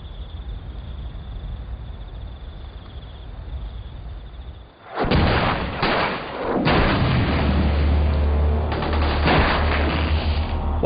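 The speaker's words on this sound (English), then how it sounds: "While some soldiers trade fire with the enemy, the rest of the patrol lay their charges." Bursts of gunfire and heavy booms erupt after a quieter stretch of rumble as New Zealand SAS soldiers trade fire with the enemy, loud, dense and repeated volleys continuing to the end.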